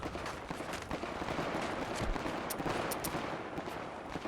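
Automatic gunfire from a modded weapon in Fallout 4, a dense continuous stream of rapid shots and crackling bursts filling the whole stretch at steady loudness, with a few sharper reports standing out near the end.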